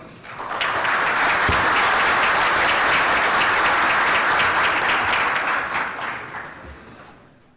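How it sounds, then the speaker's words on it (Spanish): Loud, sustained applause from the audience at an international security and defense symposium welcomes a Brazilian Navy rear admiral, swelling quickly, holding steady for several seconds, then fading out. "Pido un fuerte aplauso"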